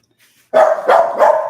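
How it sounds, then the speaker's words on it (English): A dog barks three times in quick succession, loud and close, each bark sharp with a short rough tail. "Hey, we're not going to do the whole barking thing, man."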